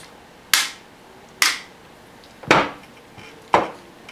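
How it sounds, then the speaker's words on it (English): Hammer taps on a new, tight Ruger 22/45 Mark III .22 pistol during takedown: four sharp metallic knocks spaced about a second apart, close and clear with quick decays. "I don't like hitting on guns with hammers, but it has to be done"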